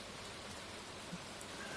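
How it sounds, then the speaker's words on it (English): Steady rain in the farming video game Stardew Valley, a soft, even hiss of falling drops that stays very faint and unchanging without any voices. "the rain really is nice in this game"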